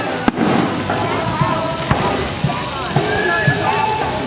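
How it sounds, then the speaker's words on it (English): Fireworks pop at a steady rhythm in the distance at a Westin Hotel in Savannah, mixed with splashing pool water and background chatter. "Are we watching fireworks?"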